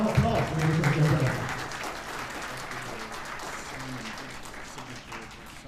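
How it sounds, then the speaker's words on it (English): A book launch audience at The Penang House in Penang gives a big round of applause, dense clapping that starts loud and fades slightly, with a voice briefly heard over it at the start. "Big round of applause, ladies and gentlemen."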